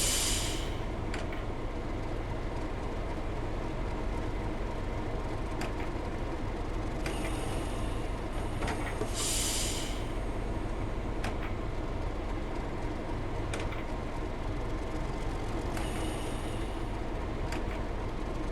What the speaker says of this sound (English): I'll use the straight air brake to slow the train down